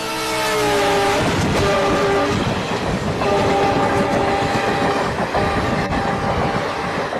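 A train rolls by loudly with rhythmic clattering wheels, its horn sounding in several long blasts over the steady rumble.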